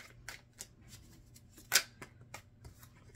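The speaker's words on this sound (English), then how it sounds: "Okay, I'm going to just shuffle out all the cards." Tarot cards being shuffled by hand: soft, close, intermittent papery riffles and taps over a faint low hum, with one sharper burst of card flutter near the middle.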